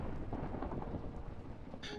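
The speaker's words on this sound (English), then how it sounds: "I think we just have a thunderstorm going on, and that's why that thunder was so loud" Thunder rumbling during a thunderstorm in Minecraft, a low continuous roll that stays steady for the whole stretch, with a short bright crackle near the end and no talk over it.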